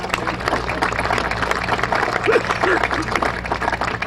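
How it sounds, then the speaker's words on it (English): Applause from an outdoor ceremony crowd, a steady bed of clapping with scattered voices and a brief chuckle mixed in, continuing throughout. "they deserve a big applause"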